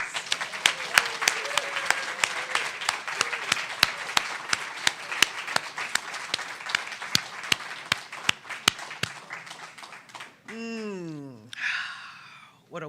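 Audience applause at a Sunday church celebration service, dense steady clapping for about ten seconds with sharp individual claps standing out, then fading as a voice speaks over the tail.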